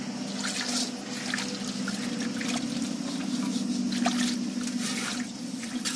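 Water drains and drips steadily from freshly rinsed rasgulla dough, with scattered drips over a soft, continuous trickle, close and moderately loud in a village kitchen.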